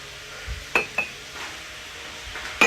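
Colored ceramic coffee cups with a gold rim clink together indoors in a few sharp, bright taps spread over a couple of seconds, close by and moderately loud against a quiet background.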